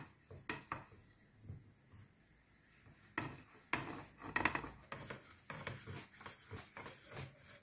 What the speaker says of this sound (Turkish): oklavamızla güzelce açıyoruz